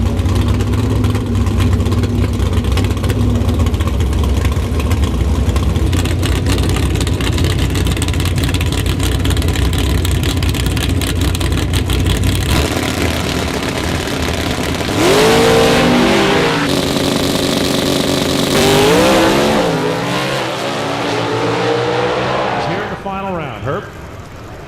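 Hemi-powered drag race cars roar loudly at a drag strip during a final-round run, engines idling and revving before launching with rising, sweeping howls, while a voice talks over the din.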